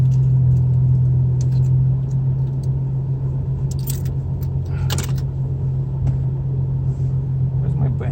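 A car with hydraulic suspension idles while warming up, its engine a steady, close, low hum running throughout, with a few brief clicks and rattles on top.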